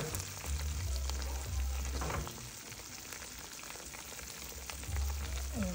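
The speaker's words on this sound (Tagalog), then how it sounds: "Lutuin ko muna ang aking garlic at saka ginger." Garlic and ginger fry in a pan for beef broccoli with bell pepper, a steady close sizzle with light crackling and occasional stirring scrapes, no voices over it.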